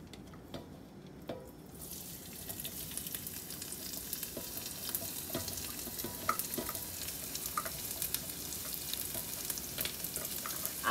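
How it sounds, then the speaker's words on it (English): Coconut prawn dish with freshly added blended ingredients sizzling and frying in a pan, steady close sizzle under repeated scraping stir strokes, growing louder after a quiet start. "So next we will stir in our blended ingredients here."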